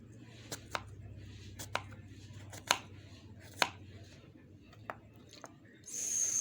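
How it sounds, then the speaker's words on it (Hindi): Apples being cut on a board give sharp, separate knife chops at irregular intervals against a quiet background, close and distinct, ending in a brief rustling noise. "मैं एप्पल जो है इसकी कटिंग कर लूँगी।"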